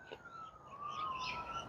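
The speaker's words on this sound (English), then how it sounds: "It's close enough that I can hear a siren in the background" A siren wails in the distance near a nature area alive with birds, a faint rising and falling tone over quiet outdoor ambience with some birdsong.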